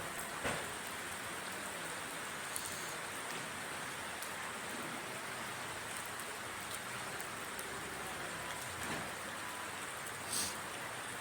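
Heavy monsoon rain pours steadily over the Achankovil forest in Kerala, a dense, continuous hiss with occasional louder spatters standing out, heard alone without voices.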